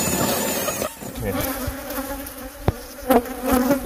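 Bees buzz and drone in a nest built inside an RV, the hum steady and fairly close, with a few sharp knocks and scrapes from the opened wall and no talking.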